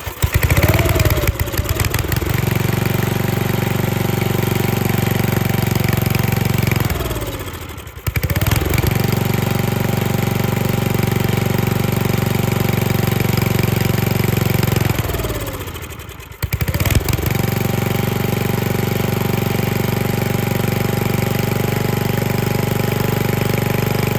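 An old David Bradley Suburban garden tractor, circa 1959, with a swapped-in red motor runs steadily and loud up close, stumbling and nearly dying twice before catching again and continuing its rough, uneven idle.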